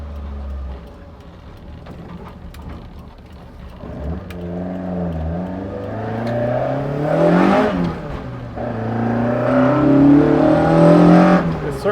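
A Toyota AE86 N2 race car on high cams is driven around the block on normal streets, its engine loud and close, revving and climbing through the gears in rising, falling sweeps, with a voice talking over it.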